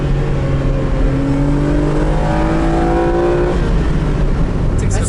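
A Renault Clio V6 engine revs hard to the redline, climbing steadily in pitch, loud and close, then drops off near the end as the revs fall.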